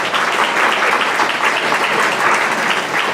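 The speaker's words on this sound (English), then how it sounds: "please give a round of applause for our fabulous staff that's here" Continuous applause from a crowd at a board of education meeting, steady and fairly loud throughout with no pauses.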